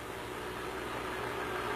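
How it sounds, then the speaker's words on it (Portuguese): A Yamaha two-stroke engine idles with a steady, even hum that stays close and constant through the short stretch, with no talk over it. "dê partida no motor e deixe-o em marcha lenta"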